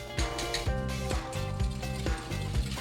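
A mixer whips eggs while sugar is poured in for a homemade pecan pie, giving a steady close mechanical whir with rhythmic clicking pulses and no talk.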